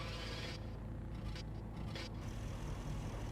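A car engine idles and drones steadily in the video game Arma 3, a continuous low rumble with brief scraping, hissing variations midway and no voices over it.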